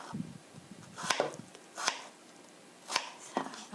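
A kitchen knife chops potatoes into cubes on a board for chicken curry, four or five sharp, spaced taps at close range, fairly quiet.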